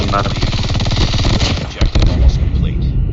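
Rapid, continuous bursts of automatic fire from an RPD light machine gun in Call of Duty: Mobile, loud and close, with a brief break near the middle.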